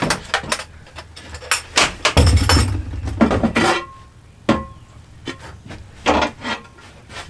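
Glass shelves being taken out of an old hutch and set aside: close, irregular knocks, clinks and rubbing scrapes in scattered bursts, with a longer rattling handling stretch in the middle.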